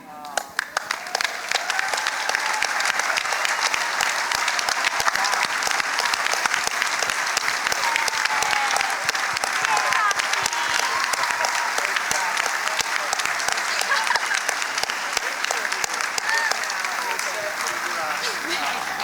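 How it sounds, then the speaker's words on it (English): A large crowd at a climate summit gives a long, sustained round of applause, dense and steady for nearly twenty seconds, with some voices faintly mixed in under the clapping. "please stand now and receive the round of applause they deserve"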